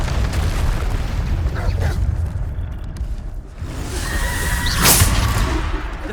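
Bombarda spell explosion in Hogwarts Legacy, a loud booming blast with a crackling burst near the end, set within ongoing combat noise and game effects.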